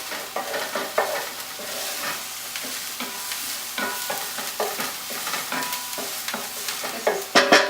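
Vegan enchilada sauce stirred in a hot pan, a steady sizzle broken by repeated scraping strokes of a utensil at an uneven rhythm, close and clear, louder clatter near the end, with no speech.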